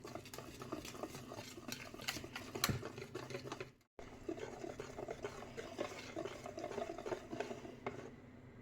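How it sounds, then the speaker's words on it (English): Steady swishing and clinking of pancake batter being stirred in a bowl, a continuous close scraping rhythm with a brief pause midway, then resuming. "After all the ingredients are in the bowl, mix them thoroughly until you get a consistency similar to this."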